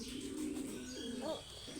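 A pigeon coos nearby in a soft, low rolling call that swells briefly near the end, over a quiet room background.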